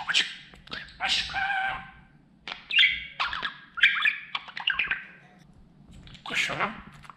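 A pet budgerigar chirps and squawks close by in irregular bursts, with rapid warbling chatter that sounds almost like mimicked speech between short pauses.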